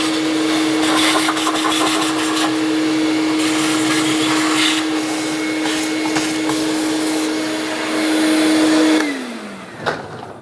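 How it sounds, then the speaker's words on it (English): A vacuum cleaner drones loudly and steadily while sucking debris from around the intake area of a 2007-2013 Acura MDX 3.7L V6 engine, its pitch then dropping as it switches off near the end. "I'll use a vacuum cleaner for this."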